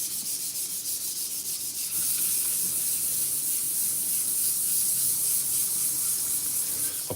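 Steady hand buffing of light scratches on a finished surface, a continuous close, even rubbing hiss that grows slightly louder after a couple of seconds and holds without pause.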